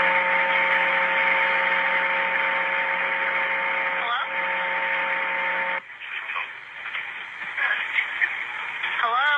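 Recorded phone call from a funeral home and cemetery in Pueblo, Colorado, carrying steady hissing static with electronic tones, then a broken crackling stretch, while a voice talks over it.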